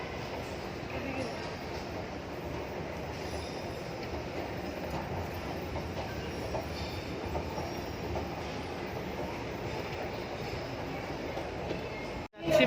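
Interior of a moving metro train, a steady rumble and rolling rail noise that holds evenly for the whole stretch, with faint murmuring voices mixed in, ending in a sharp bump.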